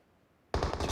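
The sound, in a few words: gunfire in video game PUBG Mobile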